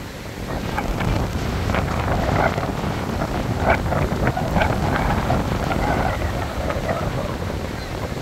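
Rough sea after a typhoon on a sandy shore, with steady roaring surf and heavy wind buffeting the microphone, a continuous loud wash with no clear breaks.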